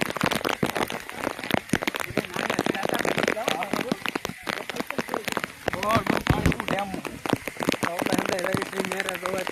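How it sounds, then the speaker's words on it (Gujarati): Heavy rain pours steadily with scattered crackling drops, while people talk over it throughout. "ધોધમાર વરસાદ પડ્યો છે"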